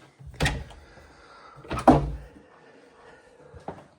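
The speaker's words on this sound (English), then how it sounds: "this is the primary bedroom, which has this double swinging door to close here" A double swinging bedroom door closing in a house near downtown Santa Fe, heard as three separate wooden knocks and thuds spread over a few seconds, close and fairly loud in a quiet room.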